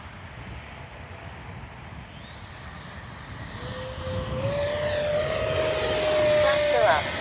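A Freewing 70mm F9F-5 Panther RC jet flies past, its turbine whine rising in pitch and growing louder as it approaches, with an automated voice calling out in the background.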